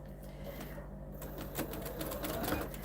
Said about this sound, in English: you're going to head over to the sewing machine and you're actually going to sew on the short edge